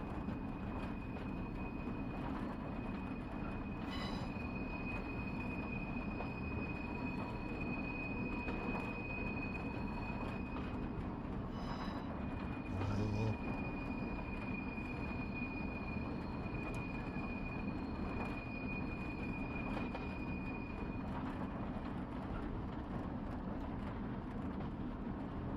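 A simulated Flying Scotsman steam locomotive runs on the Corris Railway in Train Simulator Classic, with a continuous low rumble of running gear, a steady high whine and a few brief clanks and squeals, and no voices.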